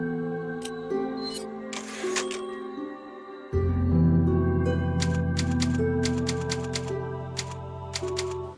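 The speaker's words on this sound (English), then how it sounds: "Save point, that's what the typewriters are for, just like in loads of Resident Evil games" At a Resident Evil 4 save point, a typewriter clacks out bursts of keystrokes over calm, sustained game music that swells halfway through, the sharp key strikes coming in uneven clusters.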